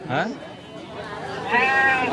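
Bleating from livestock at a crowded weekly village market in Vaddadi, two bleats, one early and one longer near the end, heard over busy crowd chatter and background voices.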